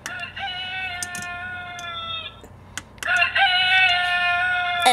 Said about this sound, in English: And it sounds like a rooster.